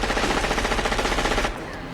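Rapid machine gun fire from the movie Die Hard, a loud, rhythmic burst of evenly spaced shots lasting about a second and a half before cutting off into quieter ambience.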